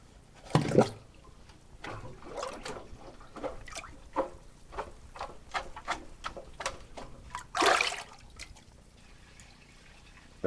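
A plunger works a clogged sink, giving a string of wet, rhythmic squelches and gurgles close up, with two louder sucking bursts standing out, and no one speaking.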